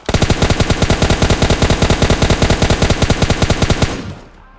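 An automatic weapon fires in the video game PUBG Lite. One loud, rapid, evenly spaced burst of about twenty shots lasts nearly four seconds, then cuts off with a short fading tail.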